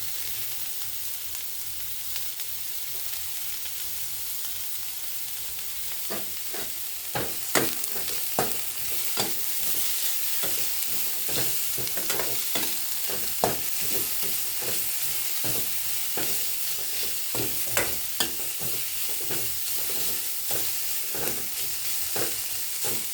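Mixed vegetables for Karnataka-style veg fried rice stir-frying in a pan: a continuous sizzle overlaid with frequent, rhythmic scraping strokes of a spatula, close and steady with no voices.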